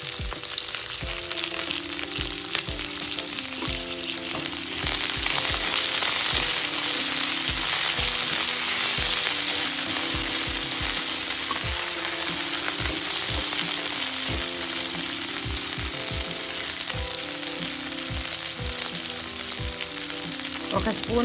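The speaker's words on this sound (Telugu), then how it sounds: "కొంచెం సేపు వేగనివ్వాలి." Okra and chilli sizzling hard in a hot pan for a village-style chutney, a continuous loud frying hiss with occasional stirring scrapes and clinks, no voices.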